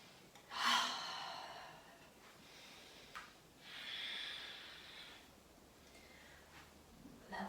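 Audible breaths are drawn in and let out during prenatal yoga movement: a sharp inhale near the start, then longer, softer exhales and airy breaths spread over several seconds in a quiet room.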